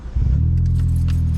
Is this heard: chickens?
no